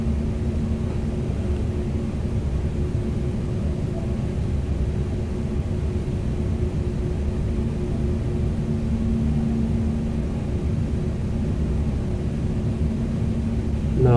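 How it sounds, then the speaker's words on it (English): Airbus A320neo engine 1 spooling up in a flight simulator: a steady, continuous low rumble with a faint constant hum, holding even and unbroken throughout. "Now engine 1 is starting."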